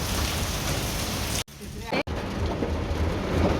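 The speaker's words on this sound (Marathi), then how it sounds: "पाऊस पाऊस पाणी पाणी आपल्याकडे छत्री पण नाही" Heavy rain pours down in a dense, loud, continuous roar, broken briefly by two sharp cuts, with a voice faintly talking beneath the downpour.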